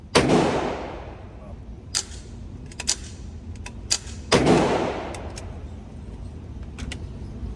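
.22LR bolt-action rifle shots at a range, two louder reports a few seconds apart with quieter clicks and ticks of the bolt between them, moderately distant.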